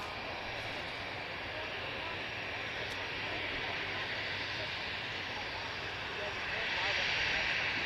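Wide-body Airbus A330 jet airliner at Manchester Airport, bound for Tenerife South, producing a steady broadband engine roar that holds throughout and swells louder near the end, with a voice talking over it.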